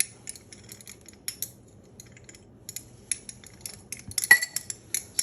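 A spoon clinks against a glass while meat tenderizer is stirred in for a DNA extraction experiment, sparse light taps and scrapes with brief metallic rings, close and quiet with no talk.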